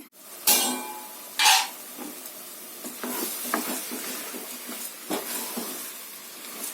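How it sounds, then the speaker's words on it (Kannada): Rice frying in hot oil while being stirred, with a steady sizzle, a couple of sharp spoon scrapes against the pan, and soft repeated stirring strokes close by. "ಅಕ್ಕಿ ಫ್ರೈ ಮಾಡೋದ್ರಿಂದ ಎಣ್ಣೆನಲ್ಲಿ ಅದ್ರ ಫ್ಲೇವರ್ ಕೂಡ ಹೇಳ್ಕೊಳ್ಳುತ್ತೆ"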